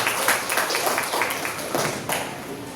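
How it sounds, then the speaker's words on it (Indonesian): Classroom of students at a vocational high school in Banda Aceh applauding a classmate, a brief burst of dense hand clapping up close, steady and unbroken. "tepuk tangan buat Aisyah"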